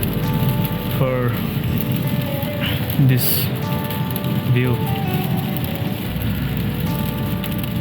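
Rain falls during an autumn road trip around Lake Michigan, a steady, even patter and hiss that runs throughout while a person talks over it.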